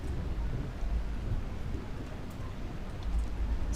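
In the tavern-management game Tavern Master, steady soft rain falls under deep, low thunder rumbles that rise near the start and again toward the end, with no voices over it.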